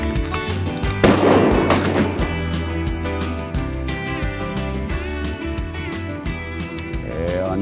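Shotgun blasts ring out at ducks on a hunt, one loud close boom followed by scattered further shots and echoing reports over steady outdoor background noise.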